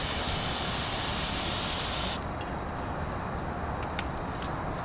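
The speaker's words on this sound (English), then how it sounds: "I use my Aquanet for fuel." Aqua Net hairspray sprayed as fuel into a homemade rapid-fire potato cannon, heard as a loud, steady close-up hiss for about two seconds that then drops to a quieter rushing noise with a few faint clicks.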